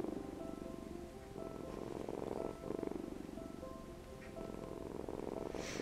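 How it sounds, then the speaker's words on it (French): A steady, low rumbling purr from a cat, continuous and close, with soft harmonic tones layered over it throughout. "le ronronnement de nos adorables chatons"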